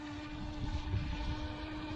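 A steady motor whine with a constant high hum from an Eachine EBT04 brushless RC speed boat at full throttle drones over rushing wind and water noise, continuous and fairly faint.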